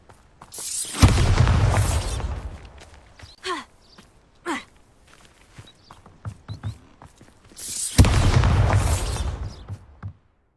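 Bombarda blasting spell in a wizarding video game, two heavy booming explosions several seconds apart, each with a rumbling tail, with short sharp effects and thuds between them, loud and close.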